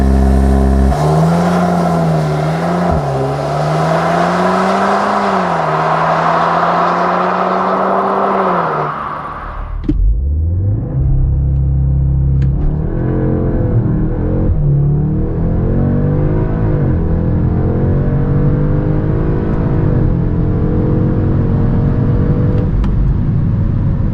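Audi S3 launching from 0 to 100 km/h with launch control: a loud engine revs up with rising pitch, then a sharp upshift, then the climb starts again with a steady roar, heard from inside the car.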